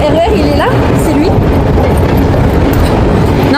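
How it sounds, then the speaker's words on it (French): A Paris RER train rolls through a station with a loud, steady rumble and rail clatter, close by, as people talk over it and brakes squeal briefly near the start. "notre RER il est là, c'est lui?"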